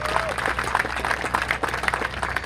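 A breakfast crowd at a union Labor Day event breaks into a steady round of applause, many hands clapping densely and continuously, with a voice talking over it.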